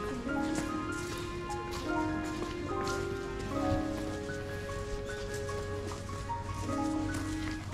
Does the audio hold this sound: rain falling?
yes